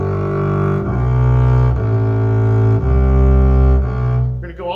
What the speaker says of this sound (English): Okay, now we're going to do sort of a double stop exercise,